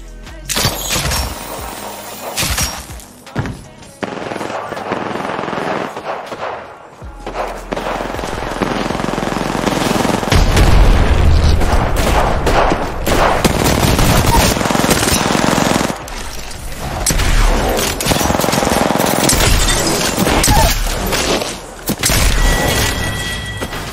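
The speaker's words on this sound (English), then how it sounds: "He's shooting a burst prowler at our teammate from the tower." Prowler burst gunfire in Apex Legends, loud rapid bursts of shots with booming impacts repeating across the clip, fired from a construction tower.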